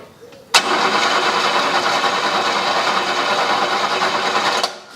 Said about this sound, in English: at just how fast this engine's gonna turn over